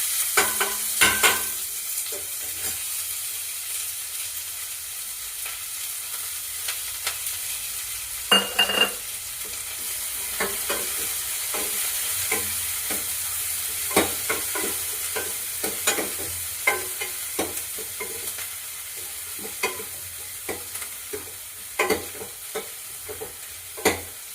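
Garlic and onion frying for kadhi in a pan, a steady sizzle with occasional stirring scrapes and small clatters running throughout, close and moderately loud, no talking.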